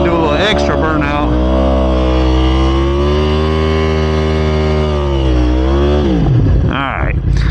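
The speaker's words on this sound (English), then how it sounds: "We gotta do a little extra burnout." Yamaha R1M sport bike holding a steady, loud high-revving roar during a burnout on a new Dunlop tire, the pitch sustained for several seconds before dropping as the throttle eases.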